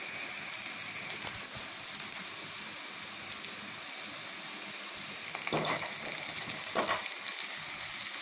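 Sliced onions with urad dal fry in a pan for sambar, giving a steady close sizzle with occasional stirring scrapes and no speech.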